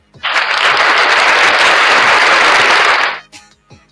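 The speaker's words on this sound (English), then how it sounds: "And let's give another applause to the chief." A burst of strong, close applause from a group of people erupts quickly, stays thick and steady for nearly three seconds, then stops sharply, leaving a few faint trailing sounds.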